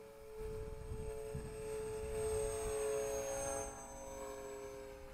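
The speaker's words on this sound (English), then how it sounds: "The annoying sound you hear is probably that bent prop." A small RC trainer plane with a bent propeller buzzes with a thin, whining drone that swells and fades, somewhat distant and faint.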